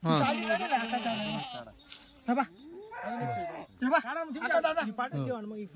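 A Kathiawadi goat gives one long, loud, wavering bleat up close, followed by people talking nearby with more animal calls mixed in.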